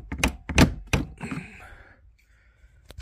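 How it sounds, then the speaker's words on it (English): A flathead screwdriver pries a plastic trim panel inside a Dodge Journey, giving a few close, dull knocks and thunks followed by a short creak and scrape, then quiet. "just take a flathead and just pry it like that"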